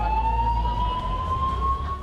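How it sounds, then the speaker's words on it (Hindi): Police sirens wail across a market area during a mock terror drill, one steady rising tone sounding loud and continuous over a low rumble of traffic and crowd. "देखते ही देखते पूरा इलाका सायरनों की आवाज से गूंज उठा।"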